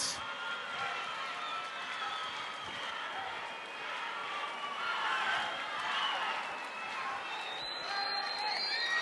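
Crowd at a Latin dance competition cheering and applauding for winning couples, a sustained loud wash of clapping, shouts and excited voices that swells and holds for several seconds.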